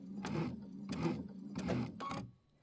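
A sewing machine stitches a mini quilt from a Kimberbell Home Sewn embellishment kit with a quarter-inch seam, running in four short, even bursts separated by brief pauses, close and moderately quiet with no talk.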